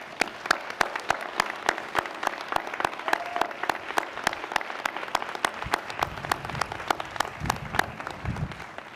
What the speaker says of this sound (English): Graduates, will you please join me in extending a big round of applause for your parents and loved ones